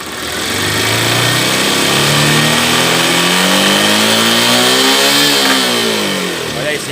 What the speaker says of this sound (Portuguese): Então vamos funcionar a motocicleta, ó, ok, tá vendo a centelha? E agora eu vou acelerar